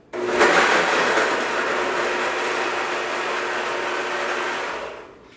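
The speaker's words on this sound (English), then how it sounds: "we put it on the blender and just go for it." A loud, steady whirring blender motor starts abruptly, runs continuously for several seconds grinding ice and vodka cubes into a cocktail, then winds down and stops.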